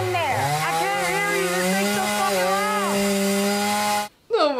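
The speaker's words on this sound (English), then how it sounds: "You just wanna walk in with a chainsaw?" A chainsaw from the TV show Peacemaker runs loud and steady, its engine pitch rising and dipping in waves before cutting out abruptly near the end.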